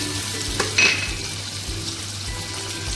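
Ginger paste goes into a frying pan with hot oil for a taro and tangra fish curry. A continuous sizzle runs throughout, and a brief louder splutter with a faint clink of the spoon comes early on, then the frying settles back.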